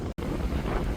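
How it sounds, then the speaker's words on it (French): Strong wind on an island buffets the microphone in a loud, continuous roar, broken by a split-second dropout near the start. "Wow, ça souffle."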